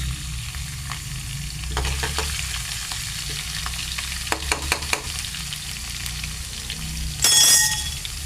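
Onion and green garlic sizzling in hot oil for a Gujarati curd raita, a steady close fry with intermittent stirring clicks and a louder burst of spitting near the end.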